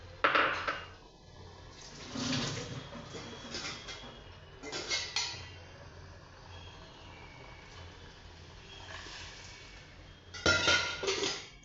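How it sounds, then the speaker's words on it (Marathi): Water is poured into a pot of bitter vaal (field bean) curry, in several short splashing bursts spread through a quiet stretch with no talking. "तुम्ही त्यात पाणी घाला"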